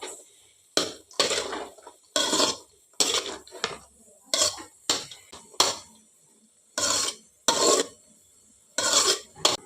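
A spoon or spatula scrapes and stirs beetroot stir-fry (palya) in a metal pan, in about a dozen short, sharp bursts separated by brief pauses, loud and close.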